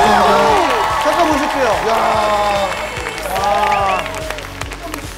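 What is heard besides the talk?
audience applause in TV studio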